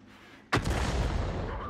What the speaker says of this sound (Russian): а он фугасами стреляет